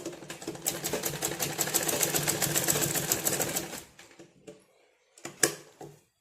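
A sewing machine runs a fast, rhythmic chatter of stitches for several seconds, then stops, leaving scattered clicks and a few sharp knocks from handling the machine and fabric, close up and fairly quiet.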